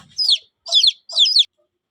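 Chicks belonging to a hen in a rural home give three short, high chirping bursts, evenly spaced and fairly close, with quiet gaps between them.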